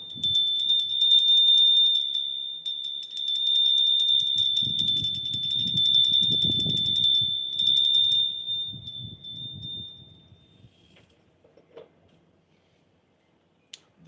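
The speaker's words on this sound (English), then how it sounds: "bell, its significance is to bring your attention back" A bell is struck and rings with a sustained, high, bright shimmering tone that holds for several seconds and slowly fades to silence, with soft low rustling beneath.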